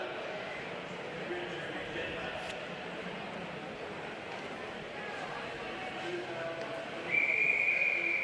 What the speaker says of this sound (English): And there's the whistle to get us underway.